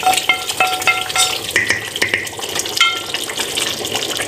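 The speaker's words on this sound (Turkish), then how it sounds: "Bu şekilde karıştıracağım." A sauce with roasted hot pepper and garlic being stirred in a pan, close scraping and clinking of a spoon over a wet bubbling sizzle, in quick irregular strokes with no talking.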